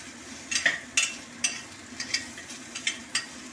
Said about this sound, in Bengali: লাউটা দেওয়ার পর আমি একটু নাড়াচাড়া করে নেব।